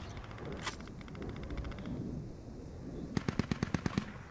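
In the shooter game Squad Ops, short bursts of machine gun fire crack out, one rapid string early and a sharper, louder burst of about eight shots near the end, over a dull background rumble.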